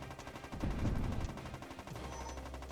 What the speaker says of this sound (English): There's a lot more guns, there's a lot more stuff firing at you.